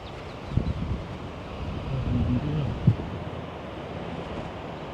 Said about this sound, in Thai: ลมดีมาก